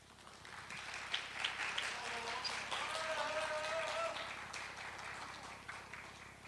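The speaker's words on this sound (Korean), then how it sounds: "박수로 모시도록 하겠습니다" A hall audience claps at a disability research conference to welcome a professor to the stage, a soft, even, distant patter that rises and lingers for several seconds while a sustained tone sounds faintly underneath.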